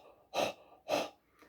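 A person imitates a dog's panting with two loud, breathy huffs about half a second apart, then a fainter third breath beginning, as an open-throat exercise for trumpet playing.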